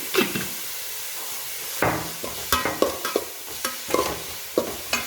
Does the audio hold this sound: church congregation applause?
no